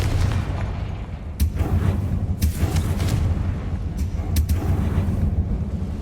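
Confringo, a fire blast spell cast in Hogwarts Legacy, erupts as several sharp booming bursts over a dense, continuous rumble of game sound, with no talking.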